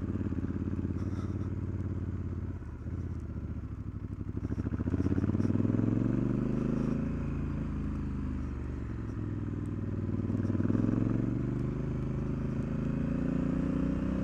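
Honda CRF1100 motorcycle engine working hard in first gear up the steep Hardknott Pass, a steady loud drone that rises and falls in pitch as the revs climb and ease, continuous throughout with no talk.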